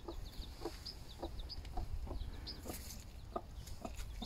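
A mother hen that has hatched one chick clucks softly and repeatedly, fairly faint and a little distant over a low rumbling background, with no talking.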